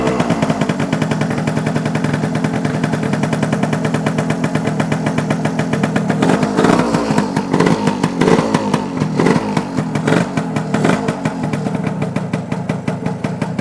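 A rebuilt motorcycle engine with a new piston, rings and cylinder runs loud and close, a rapid, hard-hitting staccato of firing pulses that roughens and pulses in the latter half, with no voices.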